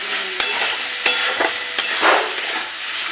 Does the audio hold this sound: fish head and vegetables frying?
yes